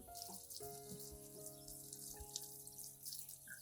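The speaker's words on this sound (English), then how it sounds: "Next, rinse the plant under clean running water." Water runs from a tap in a quiet, steady trickle, with a faint pitched hum and small splashes as an orchid plant is rinsed under the stream.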